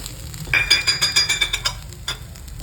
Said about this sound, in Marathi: हे दोन मिनटं मी याच प्रकारे हलवून घेणार